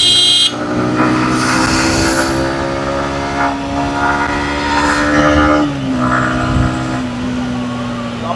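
A Yamaha MT-15 motorcycle on a test ride, its engine revving and pulling hard under acceleration with a rising then shifting drone, loud and close alongside wind rush.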